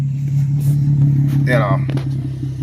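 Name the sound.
Infiniti G37 engine with new exhaust Y pipe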